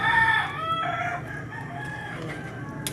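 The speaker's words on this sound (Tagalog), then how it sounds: "Sensya na po sa mga manok na maiingay." A neighbour's noisy backyard chickens, with a rooster crowing a long, loud cock-a-doodle-doo near the start and hens clucking softly around it, set against steady background noise.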